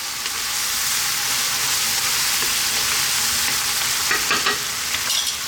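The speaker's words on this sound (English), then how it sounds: "So we're now going to add our garlic and ginger paste, which is a 50-50 mix of garlic and ginger" A 50-50 garlic and ginger paste frying in a hot pan, a loud, steady close sizzle with a few stirring scrapes near the end and no talk.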